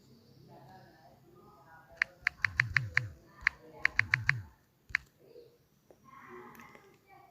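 Typing on a computer keyboard, crisp close key clicks in two quick bursts of rapid strokes with a few single taps, a faint voice murmuring beneath.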